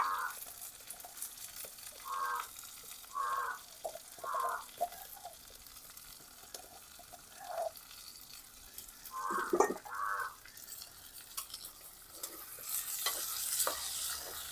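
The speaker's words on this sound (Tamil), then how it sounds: "எல்லாத்தையும் வடிவாக கலந்து விடுவோம்" Tomato and crushed ginger and garlic fry in a pan during village cooking. A spoon scrapes and clacks in repeated bursts over a soft, continuous sizzle, with no speech.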